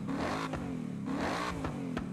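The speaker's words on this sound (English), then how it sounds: "So this is what the stock intake sounds like." Stock-intake car engine in Forza Horizon 6 revving steadily, a continuous buzzing drone that rises and dips with a few sharp shift-like breaks, close and moderately loud with no talk.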